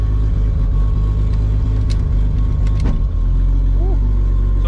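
A Toyota Supra fitted with a TH400 automatic transmission idles loudly and steadily, with a brief clunk as first gear engages partway through, followed by continued engine rumble.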